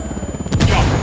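A frag grenade detonates in the Ghost Recon Wildlands video game, one sharp loud blast landing midway over a low rumbling background, with a booming tail that follows.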